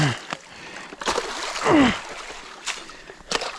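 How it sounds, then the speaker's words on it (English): Water splashes and sloshes while a beaver dam is torn out after a tropical storm, a few sharp splashes scattered over quiet flowing water, close and moderately loud. "And now I'm splashing beaver water everywhere."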